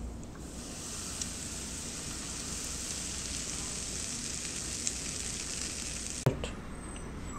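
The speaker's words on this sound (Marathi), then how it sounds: "आपलं तूप इथे आता गरम झालंय, मी गॅस बंद करतो आणि हे आता आपण यावरती घालूया।" Very hot ghee is poured over a coconut dry-fruit filling for karanji and gives a steady, soft sizzle that runs on and stops with a sharp clatter near the end. A couple of small clicks come through beneath it.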